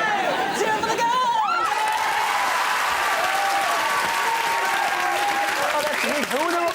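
A studio audience at a BBC game show cheers and applauds, giving steady loud clapping with whoops and crowd noise throughout, while voices shout over the top.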